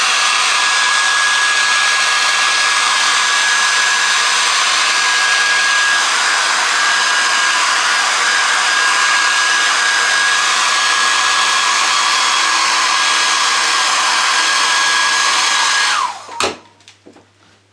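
A hair dryer blows loudly and steadily over a chocolate filling to smooth it, a constant close whoosh with a faint whine that runs for about sixteen seconds, then cuts off abruptly and leaves near silence.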